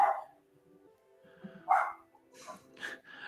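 Dogs bark at a moderate distance, giving a few separate barks and yips spread over a few seconds with quiet gaps between them and no talking.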